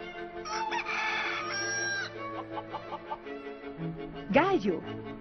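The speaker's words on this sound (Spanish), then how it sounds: "Gallo." A rooster gives a loud cock-a-doodle-doo, followed by some clucking chicken sounds and a short squawk near the end.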